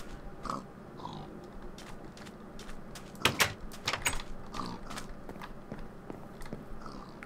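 Pigs in the Minecraft video game give short grunts and snorts in scattered bursts, loudest in the middle, with no talking.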